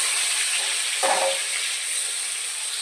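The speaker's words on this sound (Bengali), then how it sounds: "এবার মাথাটাকে আর লেজাটাকে ভাজা করে নেব।" Sizzle of frying fish head and tail pieces in hot oil, a steady bright hiss with a brief louder burst as a piece goes into the pan, no voices.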